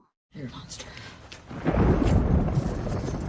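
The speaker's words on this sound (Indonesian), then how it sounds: "Tiba-tiba terjadi badai hujan dan listrik padam." A thunderstorm with rain from a 2022 film: after a brief silence a low rumble of thunder builds into a loud, steady roar of heavy rain that fills the rest of the scene.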